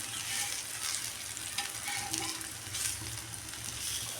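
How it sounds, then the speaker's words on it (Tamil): Pieces of elephant foot yam fry in plenty of oil while being turned, giving a soft, continuous sizzle with faint crackles, heard alone at low volume. "கொஞ்சம் நல்லா ஃப்ரை ஆகட்டும்னு திருப்பி விடணும்"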